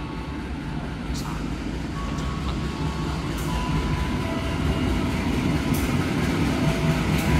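Bogowonto passenger train from Yogyakarta Lempuyangan pulling into platform 4 at Jatinegara station in Jakarta at night, a steady rumbling roll of wheels and carriages that builds gradually, with occasional squeals and station ambience and no clear talk.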